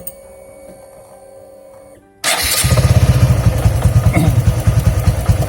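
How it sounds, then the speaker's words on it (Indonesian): A motorcycle engine sits quiet, then starts abruptly and settles into a loud, steady, chugging idle in neutral gear, close by, with rapid rhythmic pulses. "Oke, mesin motor sudah kita nyalakan"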